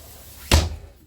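A kitchen cabinet door in a Sunlite LTD 13BD travel trailer shuts with a single sharp, close thud, ringing briefly before fading.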